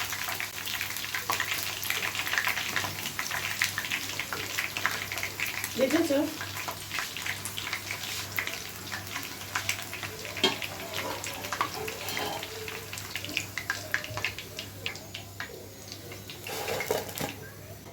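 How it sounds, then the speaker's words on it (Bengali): Chicken wings deep-frying in hot oil for spicy homemade wings, a steady close crackling sizzle running throughout with occasional stirring clinks, while a voice speaks briefly. "এভাবে আমি প্রত্যেকটা উইংসগুলো ফ্রাই করে নিব"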